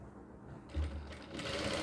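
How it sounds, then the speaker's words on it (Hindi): A sewing machine stitches the side seam of a collared designer kurti, a short quiet burst of motor whir that starts abruptly partway through and keeps running. "अब ये देखिए हम इसकी साइड की ये सिलाई लगाएंगे।"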